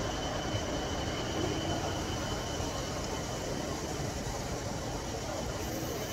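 Train running on rails on the Bangkok rapid transit line, a steady loud rumble and hiss filling the whole clip with no talk.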